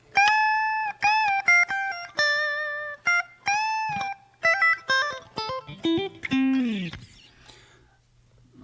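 Clean electric guitar plays a lead section alone, a run of crisp picked single notes and quick phrases ending in a sliding, bent note that fades out.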